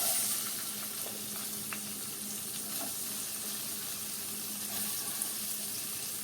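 Green chillies drop into hot tempering oil for a chilli and tomato curry, giving a steady close sizzle and frying crackle with faint stirring clinks, no voices.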